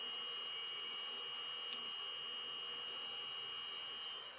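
An induction motor driven by an inverter VFD and PLC runs forward at high speed, giving a steady high-pitched electronic whine with several constant tones and one brief blip partway through.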